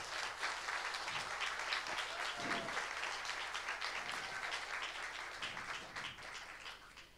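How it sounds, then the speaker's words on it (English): An audience at an all-party election forum on the environment in the Beringia Centre gives a long, steady round of applause, dense and even at first, then slowly thinning toward the end. "So if we could give them a round of applause"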